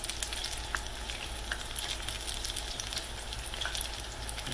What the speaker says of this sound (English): I think they're pretty close to being done.